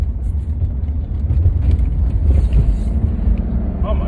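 A 1989 Mercedes 560SEC driving on the road, a steady low engine drone with rumble and wind noise around the cabin, continuous throughout.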